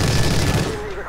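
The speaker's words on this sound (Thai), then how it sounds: "มาลองดูอันนี้ก็มีปืนกลประดับฟ้าครับ" Anti-aircraft machine gun fire in the video game Battlefield 2142, a dense sustained burst of rapid shots close up under game noise and voices, with a steady loud rumble throughout.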